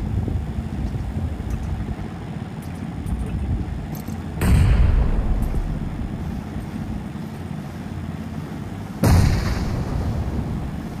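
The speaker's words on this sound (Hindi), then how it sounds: "ग्रेनेड बिल्कुल सामने।" A grenade blast and gunfire in the video game PUBG, with two loud, sharp booms several seconds apart over steady rumbling background noise.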